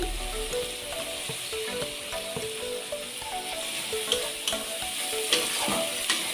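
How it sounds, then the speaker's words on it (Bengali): Chicken gravy frying in a pan with chopped tomato stirred in gives a steady, close sizzle throughout, with occasional soft knocks from stirring and no voices. "এরপর আমি এর সাথে মিক্স করব একটা ছোট টমেটো কুচি,"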